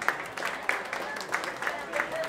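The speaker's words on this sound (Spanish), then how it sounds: "les pido un fuerte aplauso" Guests at a quinceañera applaud between waltz dances. The clapping is scattered and moderately loud, with distinct sharp bursts rising every half second or so, and speech-like murmuring runs beneath it.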